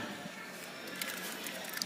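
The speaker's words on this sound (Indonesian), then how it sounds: "Kita lanjutkan untuk melakukan proses pengelasan sambil kita siram menggunakan air supaya dingin." Water hisses and sizzles continuously as it is sprayed onto a fresh weld on a steel mount for an electric PCP air pump, with a few sharper crackles near the end.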